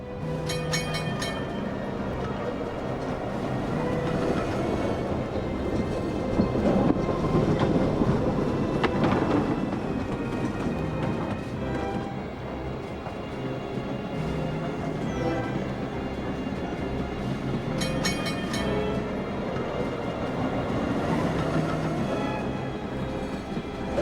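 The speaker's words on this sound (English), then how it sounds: "The train from the Norsk Hydro rolled down into the port." A train from the Norsk Hydro plant rumbles steadily along the rails down to a port for a long stretch, with a rhythmic clatter of wheels and occasional higher metallic squeaks.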